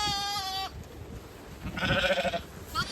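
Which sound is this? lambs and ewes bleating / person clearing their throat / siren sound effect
lambs and ewes bleating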